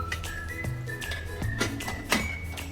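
Pressure cooker whistling while mung beans cook. The tone is a steady high whistle, with short taps and clicks and a low hum underneath. No one speaks.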